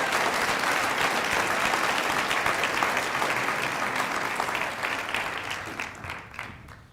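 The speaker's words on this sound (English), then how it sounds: "Round of applause for the Highlands Ranch" Sustained applause fills a sports luncheon hall as athletes are honored, thick and even at first before tapering into scattered claps that die away at the end.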